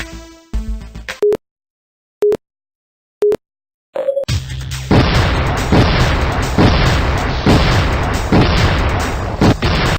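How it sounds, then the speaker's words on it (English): Cannons fire repeatedly in the video game Tanked Up, loud booming bursts recurring over intense game music that fills the clip after a few isolated beeps. "those loud cannons going off over and over with the intense music"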